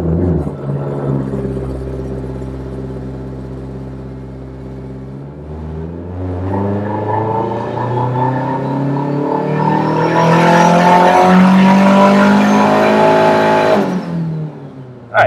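A turbocharged K20A2 engine in an EK Honda Civic idles with a low rumble, then revs through a boost pull, its note climbing steadily to a loud, high wail before cutting off sharply, with no talk.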